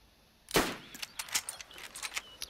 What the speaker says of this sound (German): Ich habe zweimal auf die geschossen.